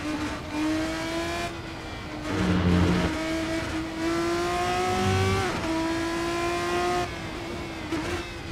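Race car engines revving in a racing video game played on a steering wheel, rising whining tones climbing through gears with brief dips at shifts, loud and continuous, alone without talk.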